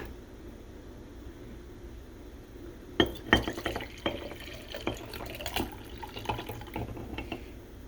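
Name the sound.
pouring ginger and onion liquid from measuring cup into container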